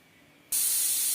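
A pressure cooker cooking mutton curry with onion and garlic suddenly lets out a loud, steady hiss of escaping steam that starts abruptly and continues unbroken.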